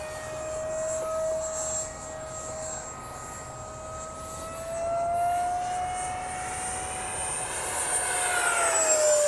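H-King FlyCat V2 twin-motor RC jet plane flying, a steady whining motor tone that shifts slowly in pitch as it passes, fairly distant and continuous with no talk.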